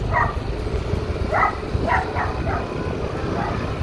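Several short dog barks or yips at a distance, irregularly spaced over a steady low background rumble.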